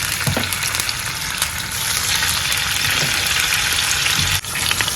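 Pink salmon fries in hot melted oil for Ghanaian aubergine abom, a loud, continuous crackling sizzle, close up and steady, with a few pops and a brief dip near the end.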